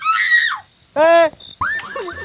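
A man screaming in a comedy sketch, two or three sharp, loud bursts of shrill yelling separated by short gaps.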